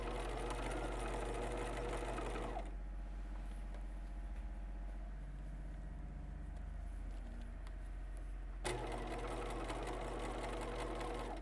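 Close, loud sewing machine stitching along a drawn line on skirt fabric, a steady motor whir that drops to a lower, slower pass mid-way before surging back to full speed near the end.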